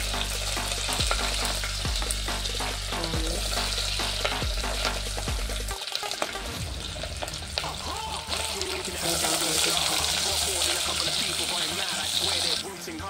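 Green chilies tipped into frying masala for a simple veg pulao, with a loud continuous sizzle, scraping stirs and a few low knocks of the spoon against the pan that give way to a brighter, hissing fry.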